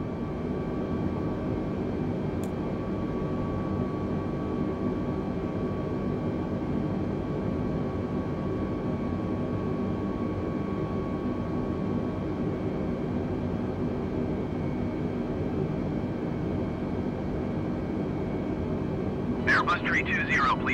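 An Airbus A320's engines in a flight simulator game produce a steady, even drone with a faint tonal hum that holds unchanged throughout, with a short burst of speech at the very end.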